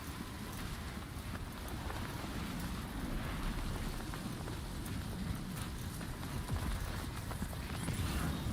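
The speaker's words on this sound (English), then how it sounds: "Storm's coming through." Steady heavy rain with rumbling wind washing over a stormy landscape in Death Stranding 2, a dense continuous roar with no clear thunder claps standing out.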